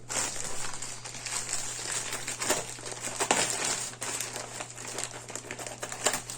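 A plastic postal parcel from the Ukrainian postal service being opened carefully by hand, with steady close crinkling and rustling of the plastic, sharp crackles scattered throughout and a constant low hum beneath.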